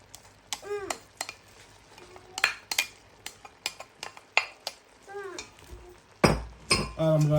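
A spoon scrapes and clinks against a pot while onion, garlic and ginger are stirred for a lamb spinach curry, with scattered sharp metallic knocks and a person talking between them.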